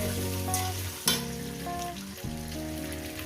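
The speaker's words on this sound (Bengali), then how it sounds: "এবার এটাকে আমি সাত আট মিনিট ধরে কচুটাকে আমি ভাজবো" Taro fries in a pan with a constant broadband sizzle, largely covered by loud background music with sustained tones.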